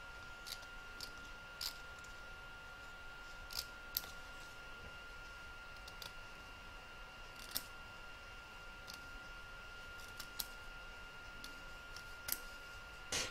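Scissors trim around an in-the-hoop embroidered fabric witch's boot with quiet, scattered snips and clicks spaced a second or two apart over a faint steady hum, with no one speaking.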